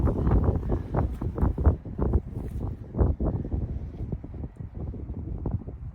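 Strong wind gusts buffet the microphone outdoors at a rook shoot, roaring in uneven bursts and swells for the whole stretch with no talk over it.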